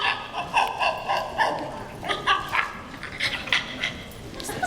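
A person vocally imitates a monkey, producing a run of bright, rhythmic hooting and chattering calls at close range, with a little laughter in the background.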